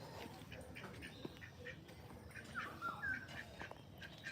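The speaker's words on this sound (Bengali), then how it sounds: "এই যে দেখুন হাঁস" Domestic ducks quack in short, scattered calls over steady outdoor background noise, moderately close and fairly faint, with several birds active in the flock.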